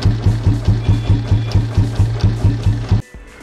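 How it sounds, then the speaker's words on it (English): Royal Enfield Bullet motorcycle with an original made-in-England G2 silencer, idling with a steady, loud, evenly spaced thump-thump exhaust beat that stops abruptly near the end. "It is giving the standard beat for the original old bikes, old bullets."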